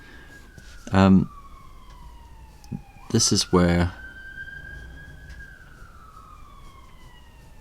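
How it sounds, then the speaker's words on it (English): A fire engine siren wails steadily in the background as it passes, its pitch sliding slowly downward, while someone talks briefly over it in short bursts. "oh, there's the fire engine or something."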